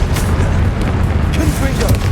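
A booming Confringo blasting-spell explosion from the game Hogwarts Legacy, a loud dense burst of rumbling noise filling the short moment amid game effects and a spoken spell call.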